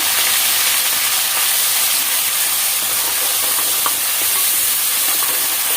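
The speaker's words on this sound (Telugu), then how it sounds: "పట్టి పెట్టుకున్న మసాలా కలిపేస్తున్నామండి" Ground masala is stirred into chicken curry that is frying in a pan, giving a loud, close, continuous sizzle and hiss with faint scraping of the spoon, with no talk.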